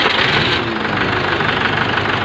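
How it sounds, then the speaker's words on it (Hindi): A Mahindra tractor engine runs loud and close after a service, with a steady, rough diesel idle and a knocking throb throughout. "अब हम इसको एक बार स्टार्ट करके चेक करके दिखाएंगे आपको।"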